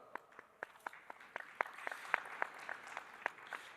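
Audience at an ICFP 2025 conference session in Colombia applauds a speaker, a steady ripple of clapping from many hands that swells partway through, moderately distant in a large room.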